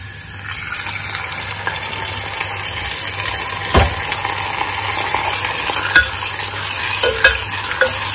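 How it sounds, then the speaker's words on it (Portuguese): Beans with garlic sauté in a pot with a steady, close sizzle and occasional stirring scrapes, continuous and loud with no talking. "E vou refogar agora o feijão."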